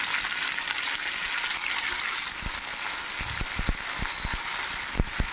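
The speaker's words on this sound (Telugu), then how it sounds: "ఈ కట్ చేసుకున్న వంకాయ ముక్కల్ని తాలింపు వేసిన తర్వాత ఆ వేసేసి" Brinjal pieces sizzle and hiss in hot tempering oil, with a steady frying crackle and a few sharp taps of stirring, no voices.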